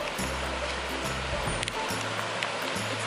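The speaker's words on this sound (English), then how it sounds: "What you hear running is the Kings Creek." Kings Creek runs through lush meadows at Lassen National Park, a steady rushing stream of flowing water that continues throughout, fairly close, with no talk over it.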